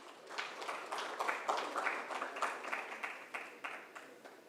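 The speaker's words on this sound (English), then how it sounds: "can we have a big round of applause for Mr. Imran Iraqi" A conference audience claps for a speaker, a faint, steady patter of applause heard from a distance in a hall.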